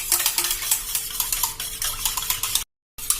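Oil being stirred into milk in a vessel: rapid rhythmic scraping and clinking of a spoon against the container, close and brisk, cut by a brief silent gap before resuming.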